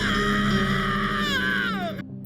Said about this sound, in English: that ear-piercing shriek from a little pink dog named Courage